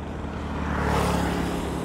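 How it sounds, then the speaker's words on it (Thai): A small farm tractor engine chugs steadily with a rapid, even putter near rice paddies, running continuously at moderate distance with a faint hiss of air around it. "มีเสียง การวิดน้ำเข้านาด้วยนะฮะ เสียงกระจัก เสียงรถไถแป๊กแป๊กแป๊กแป๊กนั่นนะ"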